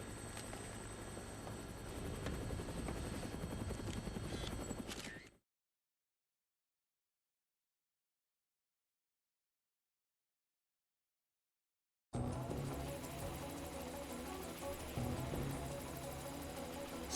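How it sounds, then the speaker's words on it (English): Helicopter flying over a town in the video game Dead Rising, a steady droning rotor and engine rumble that runs loud, cuts to silence for several seconds, then resumes at the same level. "Looks like taking a helicopter was the way to go."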